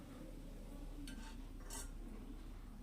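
A spoon stirring spinach rice in a pan, with faint scraping and a few light metallic clinks over a steady low background hum.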